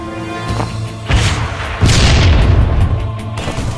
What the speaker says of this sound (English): Weapons fire!